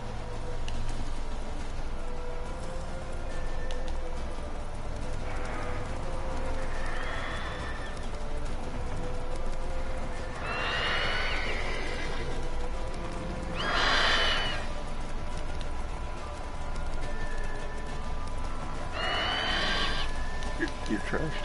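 Horse hooves and whinnies from The Witcher 3 open-world game, with several neighing bursts rising over a steady bed of clip-clop and ambient game sound.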